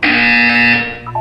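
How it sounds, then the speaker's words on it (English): A loud electronic buzzer in the video game Portal 2 blares as a single sustained tone for about a second, then cuts off into a brief fading tail. "When you hear the buzzer, look down at the floor."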